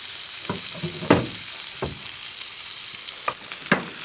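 A swordfish steak sears in a hot pan, giving a steady, close hiss of sizzling oil broken by a few soft clicks and taps, with no one talking.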